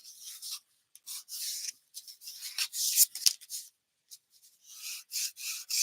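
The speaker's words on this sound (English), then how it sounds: "And then I'm going to burnish it down." Folded paper being burnished down along its crease while making a mini album, a close, dry rubbing and scraping in short repeated strokes with brief pauses, with no talking.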